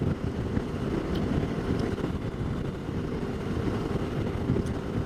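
Wind buffets the microphone on a V-Strom 650 motorcycle riding Hwy 58, a constant low roaring rumble with a broad rushing hiss throughout.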